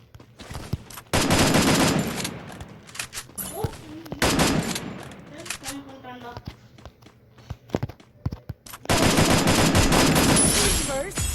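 Bursts of rapid automatic gunfire from the video game Free Fire, loud dense volleys at the start and end with scattered single shots and footsteps between, while someone talks over the action.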